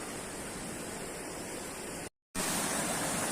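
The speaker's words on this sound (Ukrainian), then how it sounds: "Шишори, великий водопад. Річка тече." A large waterfall and flowing river in winter pour out a steady, dense roar that stays loud and unbroken, dropping out briefly for a moment before resuming at full strength.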